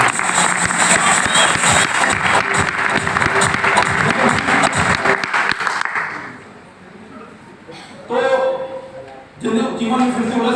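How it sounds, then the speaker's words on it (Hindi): An audience at a talk about a pharma professional's success story claps in a dense burst of applause for about six seconds, then it fades, leaving a few scattered voices. "एक बार तालियां बजा दी सभी लोगों को।"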